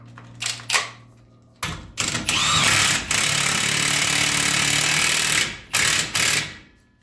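An impact wrench drives a 32 mm socket onto an axle nut while a stock AWD CR-V rear suspension is fitted to a Civic, giving loud sustained hammering bursts with short pauses between them.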